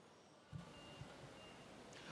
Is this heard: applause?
no